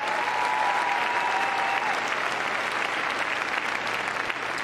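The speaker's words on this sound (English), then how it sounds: "Give a big round of applause." Steady, dense applause from a large crowd after a heelwork-to-music dog freestyle routine at Crufts 2014, loud and continuous throughout without a break.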